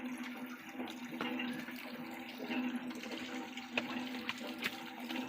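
Water flows steadily from a tubewell at a school, a continuous close splashing stream with small irregular spatters and a faint hum underneath, with no talk.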